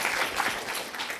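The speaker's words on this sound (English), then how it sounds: "should we have a clap for that?" A brief burst of audience clapping fills a panel discussion on Asian creatives living abroad, a short, dense patter of many hands at moderate volume.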